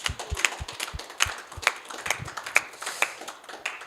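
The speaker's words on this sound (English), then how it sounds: "So a little round of applause for all of those people" A church congregation gives a small, scattered round of applause at a Sunday service, with irregular claps rising and falling for a few seconds, fairly faint in a roomy hall.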